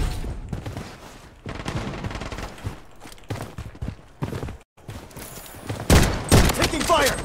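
Gunfire in the Blood Strike shooter, with rapid volleys and scattered shots crackling through a busy battle, a brief silence near the middle, and a louder burst of shooting toward the end, while game voices call out over it.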